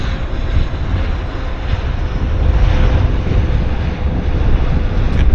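An airliner rolls out after touching down at Vancouver airport, its engines giving a loud, steady broadband roar with wind buffeting that swells slightly midway and holds throughout, no voices present.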